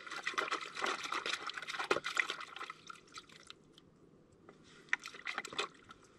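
Gold pan matting being rinsed out in water, with irregular splashing, sloshing and dripping close by, busiest in the first two seconds and easing to lighter trickles and drips.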